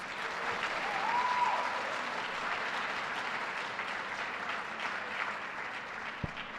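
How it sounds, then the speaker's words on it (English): Steady applause from an audience at a governor's announcement event honoring educators, a dense wash of clapping that swells slightly early on and then holds even for several seconds, with no speech. "That deserves a round of applause"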